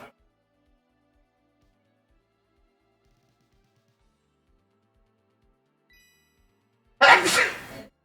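A single loud, abrupt sneeze bursts out near the end after a long, almost silent stretch with faint background tones.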